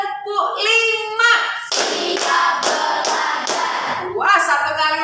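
A class of students claps a rhythmic pattern in unison, crisp loud claps falling in a steady series of accented beats, with voices speaking just before and after.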